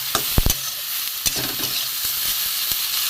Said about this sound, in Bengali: পেঁয়াজটা ঢ্যাঁড়সের সাথে ভাজা হয়ে গেছে